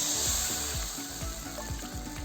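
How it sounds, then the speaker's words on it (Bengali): Water splashed into a hot pan of fried potatoes for an egg omelette curry brings a loud, hissing sizzle that settles into steady bubbling, with faint rhythmic knocks underneath. "এখন এই যে জল দিয়ে দিচ্ছি"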